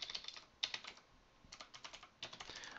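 Rapid bursts of typing on a computer keyboard while a FlexVPN tunnel and certificate authentication are configured manually, keystrokes clicking close and crisp in clusters separated by brief pauses, no talking.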